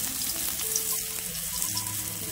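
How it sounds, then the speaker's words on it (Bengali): Stuffed bitter gourds fry in hot oil in a pan over a low gas flame, giving a steady close sizzle with faint crackles throughout. "এই যে আমি এখন এক এক করে তেলের ভিতরে দিয়ে দেবো উস্তগুলো"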